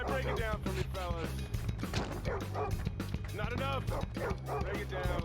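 A dog in the video game Jackass barks, yips and whimpers in quick bursts over a loud, busy game soundtrack, close and insistent throughout.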